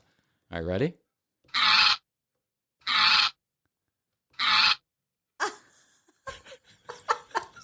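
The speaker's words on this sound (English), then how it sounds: "That's an animal. That's right. That is a dog." Three loud, abrupt barks from a dog in a sound-guessing game, evenly spaced and sounding alone, preceded by a short vocal sound and followed by people talking.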